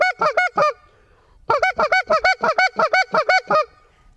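A short-reed goose call imitating geese, honked in a loud, rapid series, a few quick honks, a pause, then a longer run of regular two-tone honks close to the mic.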